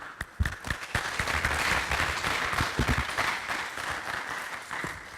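A conference audience applauds a plenary speaker on European energy, with a few sharp early claps building into steady, moderately loud clapping that continues to the end.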